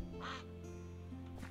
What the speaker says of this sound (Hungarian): Itt egy kacsa.